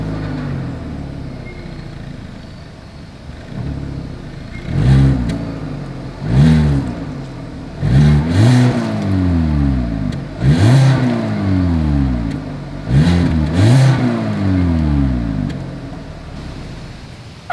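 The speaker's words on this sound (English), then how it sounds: "As always, here is that exhaust clip." A 2022 Hyundai Accent's engine revs repeatedly through its exhaust, loud and close, with about six rising-and-falling throttle blips over a steady idle.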